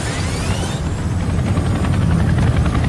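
A Chinook twin-rotor military helicopter flying, its heavy thumping rotors and turbine whine forming a loud, continuous drone close by, with no voices.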